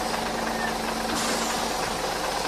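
A minibus engine idles with a steady, close rumble. A brief rise in hiss partway through hints at the vehicle settling as it arrives.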